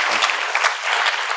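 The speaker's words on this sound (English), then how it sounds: "how about a round of applause for everyone?" A round of applause from the audience at a candidate forum, steady dense clapping from many people, loud and close throughout.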